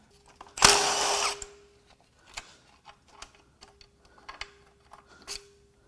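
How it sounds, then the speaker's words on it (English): A power tool bursts loudly for about a second while unbolting the timing chain tensioner on a BMW S63 twin-turbo V8 during an engine teardown, followed by scattered light clicks and metallic ticks. "I think if we unbolt the tensioner here, let's do that"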